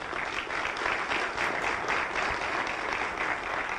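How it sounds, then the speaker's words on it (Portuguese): Applause from an audience at an Amway business seminar fills the whole stretch, steady dense clapping at high level with no voices. "uma salva de palmas aqui para o meu amigo"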